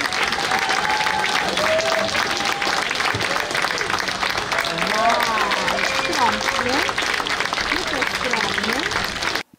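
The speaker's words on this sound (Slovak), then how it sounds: "Za vášho neutichajúceho potlesku," An audience claps at a ceremonial unveiling of the town family tree of Prešov, producing sustained, dense, steady applause that continues for several seconds with voices mixed in.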